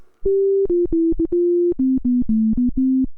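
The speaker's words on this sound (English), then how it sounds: "using a simple sine wave, I can make it play sounds at different frequencies" A string of pure sine-wave electronic beeps from a homemade video game console, each a steady tone, stepping down in pitch across about a dozen notes in an uneven, tune-like rhythm.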